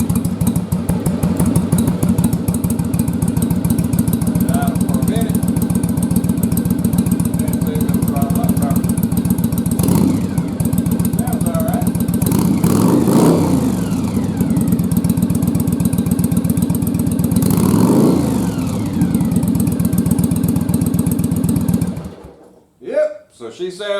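A Yamaha Virago motorcycle with newly replaced upper carburetor breather filters runs loud and close, with a steady rumbling idle broken by several throttle blips into revs. The engine then cuts off abruptly near the end.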